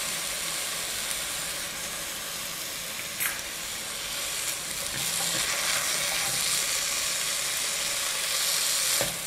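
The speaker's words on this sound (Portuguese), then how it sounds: "Espero o arroz refogar um pouco." Rice sautéing in oil with garlic and salt in a pot sizzles loudly and steadily at close range, with occasional stirring scrapes and brief clinks of a spoon against the pot.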